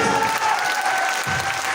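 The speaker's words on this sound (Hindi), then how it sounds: "जोरदार वाली तालियां।" A crowd at a motivational event applauds steadily, a dense continuous wash of clapping throughout the short moment.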